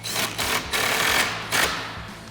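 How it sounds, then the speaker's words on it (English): Ratchet with a 10mm socket tightening headlight bolts on a 2019-2024 RAM 2500 pickup, giving a few quick, close bursts of dense clicking with brief gaps between strokes. "Now we'll get our outer 10mm bolts back in place. And with our 10mm socket."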